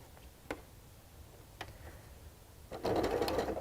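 A sewing machine stitches a decorative leaf pattern, starting with a few soft isolated clicks and then breaking into a loud, steady, close mechanical whir near the end.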